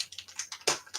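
Scissors snip and crinkle through the wrapper of a 1994 Topps Stadium Club trading card pack, a quick run of close, crisp cuts and crackling plastic with no talking.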